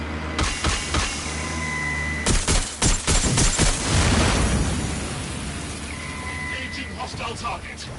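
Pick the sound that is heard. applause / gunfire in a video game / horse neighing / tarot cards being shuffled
gunfire in a video game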